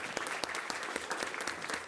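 Applause from a school board meeting audience honoring elementary school principals, steady clapping from a modest crowd with distinct individual claps standing out over a short stretch.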